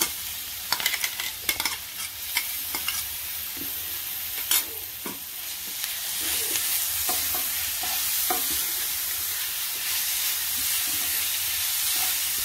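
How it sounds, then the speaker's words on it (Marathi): A green ground masala paste for prawn hariyali, added after onions have browned, is stir-fried in a pan. Spatula scrapes and taps come first, then a steady hissing sizzle builds and holds. "आता आपला मसाला आपण परतला आहे 1 मिनिट"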